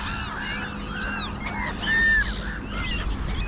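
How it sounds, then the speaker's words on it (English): Seagulls squabbling during a feeding, with several harsh, overlapping squawks and cries rising and falling close by over a constant background rush. "we have a little seagull fight here. Got kind of noisy over there"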